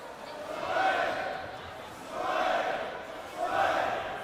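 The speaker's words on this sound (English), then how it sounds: "the greenhouse getting rowdy in the crowd" A rowdy crowd at a high school basketball championship game cheers in a gym, the roar swelling and easing in three big waves of shouting and chanting, heard from a little distance.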